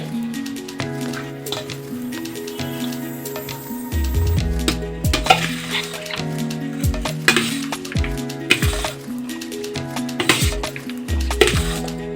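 Cooked rice being mixed in a pan with pulp, a continuous close sizzle with repeated scraping, clinking and knocks of the utensil against the pan over twelve seconds.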